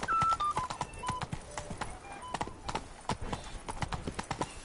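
Horse Roach's hooves clip-clop in a steady galloping rhythm in The Witcher video game, clear and moderately close, with faint soft chimes in the background.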